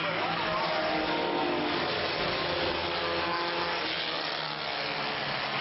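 Race cars accelerating together on a short track at a green flag restart after coming through turns three and four, a loud steady roar of many engines filling the whole stretch.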